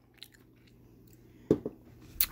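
A fresh serrano pepper is bitten, giving two quick, quiet crunches close to the mic that are followed by faint chewing. The room around it is otherwise near-silent.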